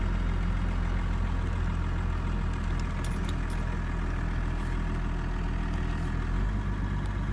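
Vehicle engine idling steadily after its transmission dropped into limp mode, a loud close low rumble that holds even, with a slight shift in tone near the end and no talking.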